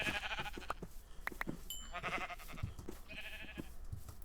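Sheep in Minecraft bleat several times in quick succession, each a short wavering cry, heard clearly and fairly close with no talking.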